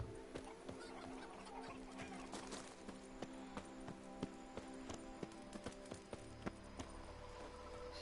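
Chickens cluck softly in the Witcher 3 Blood and Wine expansion beside Roach's stable, with scattered light clucks and taps over a quiet game ambience, faint horse hoof clip-clops mixed in.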